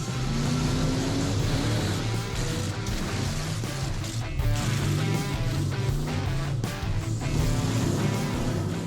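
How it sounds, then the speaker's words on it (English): A monster truck engine at a French monster car show revs hard under acceleration, a loud, sustained roar with a steady rumble and rising strain throughout, close and continuous. "Alexandre accelerates to show off his engine's performance."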